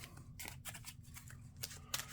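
Playing cards from a Marvel Champions encounter deck riffled and shuffled together by hand, a quick run of crisp papery flutters and snaps at close range with no talking.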